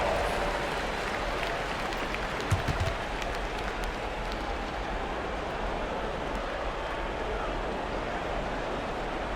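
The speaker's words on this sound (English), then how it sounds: "Give yourself a round of applause." Steady crowd applause and murmur from a large arena in the NBA 2K25 basketball video game, fairly distant and even throughout, with a few brief louder claps partway in.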